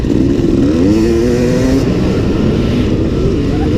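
Yamaha motocross bikes roar off the line at the start of a dirt race, a loud close engine note climbing and shifting through revs over a dense pack of other motors.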